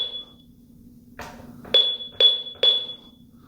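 A home security system gives a high electronic beep once, then after a pause three more identical beeps follow in a quick, evenly spaced run, loud and close.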